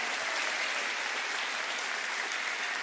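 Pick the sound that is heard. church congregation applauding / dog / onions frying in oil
church congregation applauding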